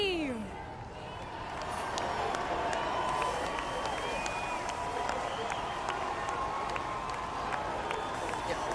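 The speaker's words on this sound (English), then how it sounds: "Give the biggest cheer for your winners." A large outdoor crowd at the Portsmouth SailGP sailing event in Britain cheers and applauds the New Zealand team as winners, a broad sustained roar with scattered whoops, heard from a distance.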